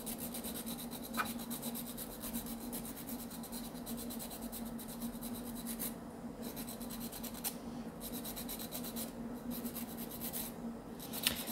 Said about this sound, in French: Et toujours en tenant bien la lime de cette manière. Hein. On ne va pas la mettre complètement à plat dessus